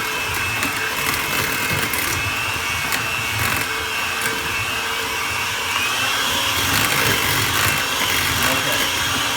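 An electric mixer beats zucchini bread batter in a bowl, giving a steady, loud whirring drone that runs without a break for the whole stretch.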